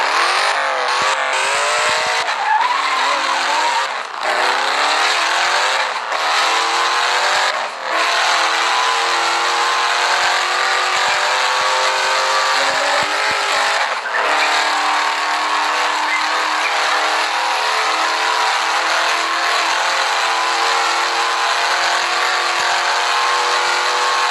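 A vehicle exhaust revs hard and climbs through the gears in a Thai exhaust-sound game, loud and continuous for the whole stretch, with pitch rising and briefly dropping at several shifts and no talk over it.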